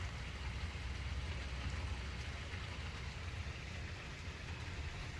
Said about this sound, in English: It turns out it's raining like crazy out here.